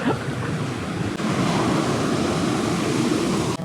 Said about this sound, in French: il y a des vraies vagues